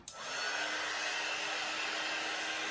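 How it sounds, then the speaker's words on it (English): A heat gun switched on for melting crayons on a canvas gives a steady, loud airy whoosh that starts with a click and holds without a break, with no talking. "I'm gonna plug in my heat gun and we can get to melting."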